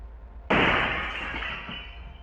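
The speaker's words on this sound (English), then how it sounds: "The sound of glass shattering had me turning to the back door" Glass shatters in one sudden, loud crash, followed by a bright tinkling spray of shards that slowly fades.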